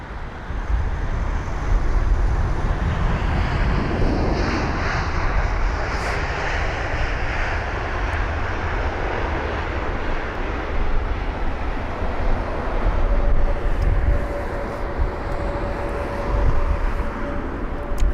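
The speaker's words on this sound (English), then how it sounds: "There's that Lufthansa 320 Neo actually vacating off the runway already." A Lufthansa Airbus A320neo clearing the runway at London Heathrow, a steady, loud jet engine rumble and whoosh with some wind noise, holding constant over a long stretch.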